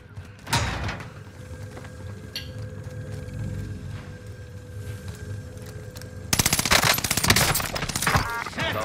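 Gunfire from Call of Duty Warzone on Rebirth Island: a lone sharp shot early, a low hum and scattered clatter, then a loud, rapid automatic burst rattles close by near the end.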